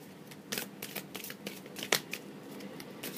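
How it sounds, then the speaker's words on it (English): A deck of tarot-style cards is shuffled by hand, close up, in a string of quick papery riffles and soft flicks with irregular bursts. No voices are heard. "So I'm just going to shuffle the deck right now."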